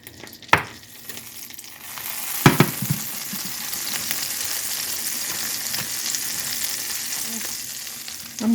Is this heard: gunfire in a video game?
no